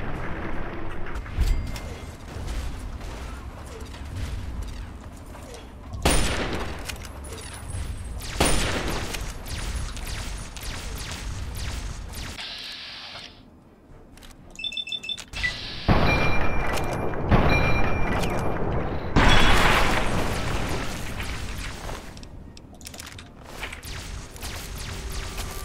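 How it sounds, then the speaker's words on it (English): Heavy booming explosions from Liberty Prime's thrown nuke grenades in Fallout 3, long loud rumbling blasts with deep low-end roar, separated by brief quieter gaps and some sparse game chatter. "See, he throws nuke grenades."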